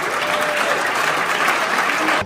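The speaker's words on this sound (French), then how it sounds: "Vous pouvez d'ores et déjà vous applaudir très très fort" A convention audience at a magic event gives dense, steady applause that fills the room at full volume, then stops abruptly at the end.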